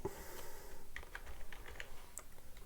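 Light, irregular keystrokes on a computer keyboard while writing Python code, a sparse run of close individual taps with no voices.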